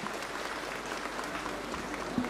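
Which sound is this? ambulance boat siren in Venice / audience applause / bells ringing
audience applause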